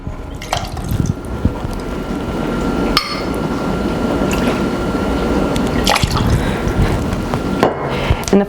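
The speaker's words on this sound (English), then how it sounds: "And then we're gonna do 3 ounces of Reposado tequila." Reposado tequila, three ounces, poured for a cocktail: a close, continuous liquid pour runs for several seconds, marked by a few sharp knocks of glass or bottle.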